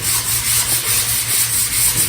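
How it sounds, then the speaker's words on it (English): Rhythmic back-and-forth sanding strokes rasp across dried filler on an oak cabinet, close and steady at an even pace. "We go into sanding what we applied after it's dried."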